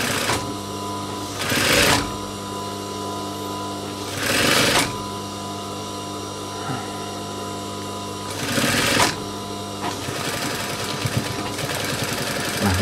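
A sewing machine stitching the waistband seam of jeans, several loud rapid whirring bursts of stitching separated by quieter pauses with a constant motor hum, close and without talk.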